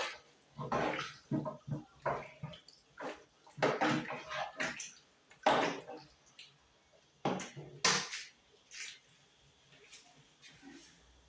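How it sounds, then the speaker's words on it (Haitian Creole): Water is poured into a pot of beef and pork being cooked for a stew, splashing in intermittent bursts while a person talks over it close by. "passer de l'eau là-dedans"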